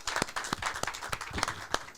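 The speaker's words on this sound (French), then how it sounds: "on vous applaudit tous les deux" A small audience at a live French podcast recording claps, with sparse, irregular hand claps rather than full applause, fairly faint and close.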